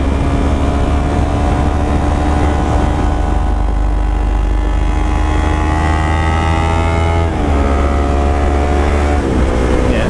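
A Yamaha R3 motorcycle ridden hard on a rural road, its engine loud and close with a strong steady drone and rising harmonic revs, briefly dropping at gear changes before climbing again.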